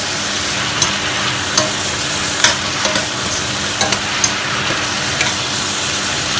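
Seasoned vegetables and meat are stirred in a hot pan, with a steady close sizzle throughout and the sharp scrape and clack of a utensil against metal every second or so; no voices.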